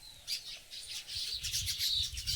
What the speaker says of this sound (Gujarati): ખલેલીમાં જુઓ અલગ અલગ પ્રકારના પંખી માળા બનાવે છે